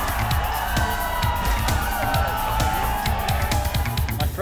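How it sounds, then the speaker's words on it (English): Spectators cheer and whoop at a 4WD hill climb on slickrock, a lively outdoor crowd roaring steadily with scattered shouts over a low engine rumble. "Spectators enthusiastically cheer for those who brave the hill."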